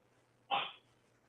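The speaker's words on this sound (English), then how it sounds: "I have a dog coughing a lung up here." A dog gives a single short, harsh cough, sharp and close, standing alone against a quiet room background.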